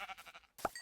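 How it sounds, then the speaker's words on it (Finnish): Sheep bleating in the video game Minecraft, two short bleats close together, the second louder, heard alone over a quiet game background. "Lammas! 2 lammasta."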